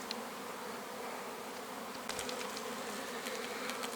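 Bees hum steadily around empty beehive bodies at a forest apiary, a continuous close buzz with sharper individual insects flitting past near the end.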